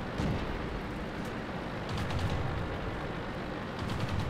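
Tank gunfire in World of Tanks: heavy booming shots at intervals over a constant loud rumble of engines and battle noise, with no talk.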